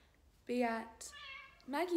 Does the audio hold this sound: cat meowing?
yes